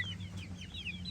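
Chickens on a farm, clucking in short chirpy bursts, fairly faint over a steady low background hum, with no voices.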